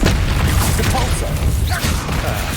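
Depulso spell impact in the video game Hogwarts Legacy, a loud, close, booming blast with crashing debris over a dense game soundscape, with a voice calling out at the same time.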